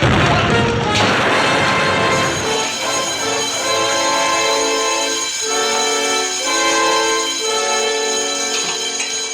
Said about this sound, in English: Explosion and fire.